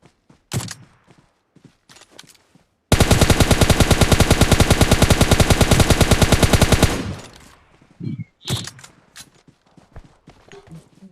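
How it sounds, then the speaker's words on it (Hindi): Video game gunfire shooting out a car's tyres, a long rapid automatic burst of evenly spaced loud shots lasting about four seconds, framed by scattered single shots, thuds and footsteps before and after. "यहाँ कार है, कार को फोड़ रहा हूँ मैं"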